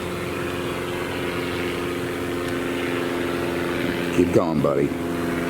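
A low-flying airplane passes overhead with a steady, droning roar beneath the ambient noise. Someone speaks briefly near the end.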